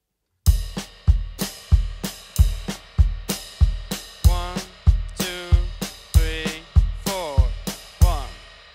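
A drum kit plays a jazz pattern, with single-stroke triplets split between the right foot and left hand. The hits are crisp and steadily spaced, with cymbal and snare strikes ringing out clearly and no talking.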